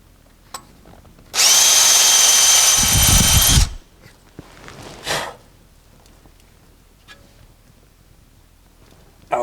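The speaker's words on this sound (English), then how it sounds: "I'm not drilling into my caliper, am I?" A power drill bores through a brake caliper from a 1973 Ford F100, one loud steady burst of about two seconds, followed by quieter shop rustling and a brief scraping sound.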